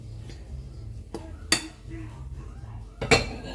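Chocolate cake batter is mixed in a dish, with a few sharp clinks of utensil against the bowl over quiet scraping and low background hum, and no talking.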